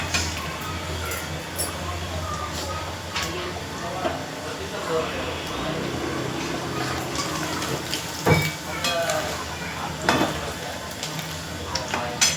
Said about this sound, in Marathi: म्हणजे पनीर तळताय मस्त